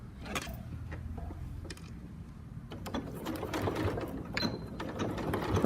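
A sewing machine runs in short bursts while stitching a concealed zip, its fast mechanical whirr and rattle stopping and starting close by, with no talk over it.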